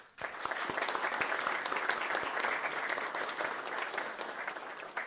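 Audience applause fills a Florida Tech Army ROTC commissioning ceremony: a dense, steady wash of many hands clapping, starting abruptly and holding at an even, loud level throughout.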